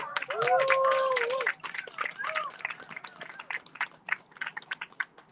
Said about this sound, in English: So, warm round of applause to you too.